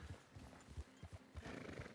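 A horse in the Westhaven RP game gallops with steady clip-clop hoofbeats and whinnies, up close over a dense noisy background.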